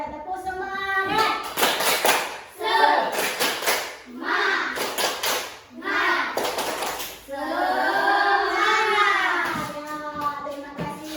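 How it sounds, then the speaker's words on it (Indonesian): A classroom of children does rhythmic 'tepuk semangat' group clapping, sharp bursts of patterned claps in sets, alternating with the class chanting along loudly. "Kita mulai tepuk semangat."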